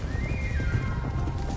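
A horse whinnies in a long, wavering call over a low rumble of hooves and ambient noise in the video game Red Dead Redemption 2.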